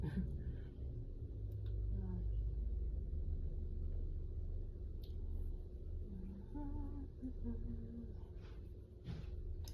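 A loud car rumbles past on a small street, its deep low engine drone filling the scene for several seconds while a person talks nearby.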